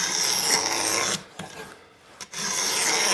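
A coarse rasp carves a wooden arched guitar plate with close, loud scraping strokes, a long rasping pass followed by a brief pause and then another stroke.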